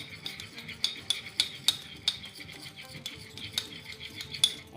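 Spoon stirring sugar and coffee into warm water in a cup, a quiet rhythmic series of light metallic clinks and scrapes against the sides, close and alone.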